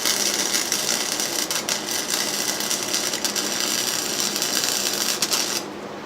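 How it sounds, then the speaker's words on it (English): Arc welding on a Spiderbox 420cc build crackles and hisses in a dense, steady buzz for several seconds before cutting off near the end. "Finally got the bitch welded."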